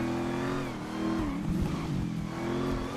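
A Mercedes G63 or BMW X7 mod car in GTA 5 revs its engine in a steady, droning tone with swells in pitch, heard up close at moderate volume.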